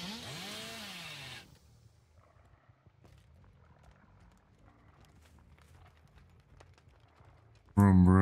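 The Hillbilly's chainsaw in the Dead by Daylight video game sits as a low, steady rumble beneath a brief voice at the start, then suddenly revs into a loud, close roar at the very end.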